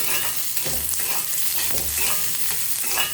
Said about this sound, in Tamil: இப்போ நான் 2 சில்லு தேங்காவை போட்டுக்கிறேன்